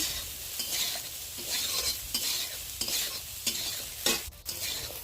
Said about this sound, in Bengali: প্রথমে তেল দিলাম, তেল দেওয়ার পর তেলটা গরম হওয়ার পর দিলাম সোয়াবিন, তারপরে দিলাম হলুদ লবণ, ভাজা ভাজা করি